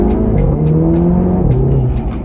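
An Audi TT Mk3 on lowering springs accelerating hard from a standstill, a loud, close engine drone rising in pitch through the gears, heard from inside the car.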